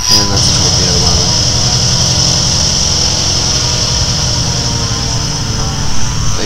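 A torpedo bomber's engine drones steadily in the War Thunder video game, a constant propeller hum held at even loudness throughout.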